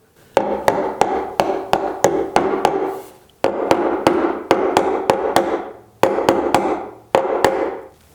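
A dead blow hammer taps an ebony bar into a glued mortise in a wooden handle, sharp close blows in quick runs of several strikes, each run broken by a short pause, with no talk.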